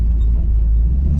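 Inside a black Buick Regal with an LS engine swap and regular Flowmaster exhausts, a deep, steady low rumble fills the cabin, heard briefly and without talking.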